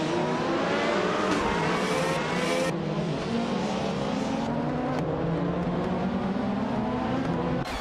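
A 1995 BMW M3 GTR race car engine roars loudly and continuously, holding a steady high-revving drone with slight pitch shifts as it runs on a twisty racing circuit.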